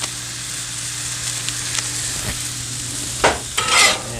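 Butter sizzling in a pan of glazed carrots as it is stirred in, a steady soft frying hiss with a few scraping stirs and a louder spatter near the end.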